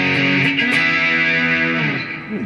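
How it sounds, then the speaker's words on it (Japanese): Fernandes electric guitar played on the rear pickup through Marshall amp modeling, a loud distorted sustained chord ringing out and then decaying, with a brief pick scrape at the end and no talking. "でマーシャルのモデリングでリアからいきます。"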